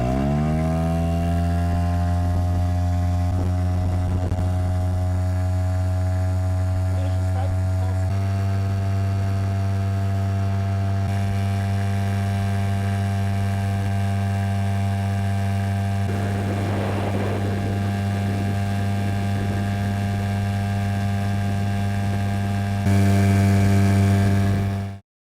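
Tohatsu 5 hp outboard boat motor fitted with a 7-inch-pitch cargo propeller, running steadily throughout with a loud, constant droning hum and no talk.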